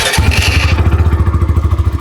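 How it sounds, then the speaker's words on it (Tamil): Hero Xtream 125 R motorcycle exhaust running close by, a steady, pulsing engine thump with a rhythmic low beat throughout and no talking. "ஸோ லாஸ்ட் அண்ட் ஃபைனலாக எக்ஸாஸ்ட் கேட்டுருவோம்."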